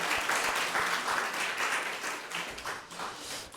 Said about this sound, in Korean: 저희 박수로 또 축하하고 감사하는 마음을 전달할까요?